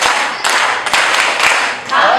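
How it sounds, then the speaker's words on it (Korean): A church congregation clapping in unison during a worship service, loud close claps in quick bursts with brief dips between them, and some voices faintly underneath. "이번에는 감사 박수"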